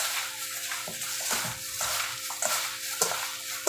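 Tofu being stirred with paprika and seasonings in a bowl gives soft, repeated scraping and squishing strokes at a steady pace, up close, over a faint background hum.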